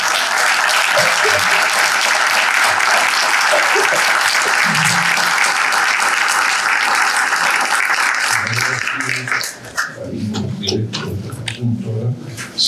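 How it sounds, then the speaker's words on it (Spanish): Loud, dense audience applause at a book presentation honoring an archaeologist fills most of the stretch, then fades around the ninth second into a speaking voice. "Les pediría un aplauso para..."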